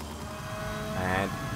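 A lightweight 125 shifter racing kart's engine buzzes steadily in a racing game, a high droning whine that rises briefly in pitch as it revs, with a voice talking over it.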